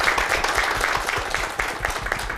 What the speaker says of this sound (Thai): ขอเสียงปรบมือพี่เอื้อย